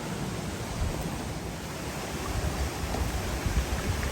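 Steady broadband rush of a mountain stream flowing near the Malatan Og waterfalls on a hike in the Philippines, a constant close wash of water with no voices.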